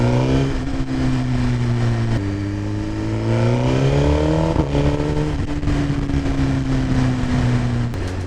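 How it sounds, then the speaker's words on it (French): Suzuki GSX-R 1000 motorcycle engine and exhaust rumbling steadily at close range, with a deep throbbing idle that rises in pitch as the throttle is blipped, then settles back to a steady loud drone. "Même le bruit d'échappement, il est incroyable."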